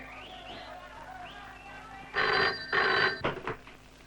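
An old-style telephone bell rings in two loud bursts, followed by a shorter partial ring, in a scene from a classic Tamil feature film. Faint background sounds come before the ringing.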